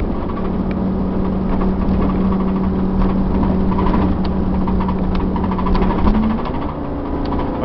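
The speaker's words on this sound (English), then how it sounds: "she cruises along fine on the highway" Dolphin Class A motorhome cruising on the highway, a steady, loud engine drone and road rumble with a sustained hum that shifts slightly near the end.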